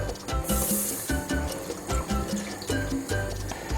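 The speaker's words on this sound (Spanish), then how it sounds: "En una cacerola vamos a poner un vaso de agua" A glass of water pours into a cooking saucepan in a kitchen, a steady splashing fill with repeated gurgles and sloshes that continues for several seconds without talk.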